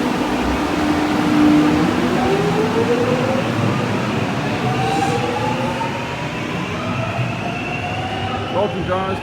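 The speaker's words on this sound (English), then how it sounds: "This train's about to leave." A metro train pulls away from an underground platform in Melbourne, its rumble and rising motor whine growing, with wheel squeals near the end.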